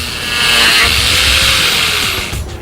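An electric sander runs steadily at close range, a loud continuous whirring grind that holds for over two seconds before easing slightly at the end.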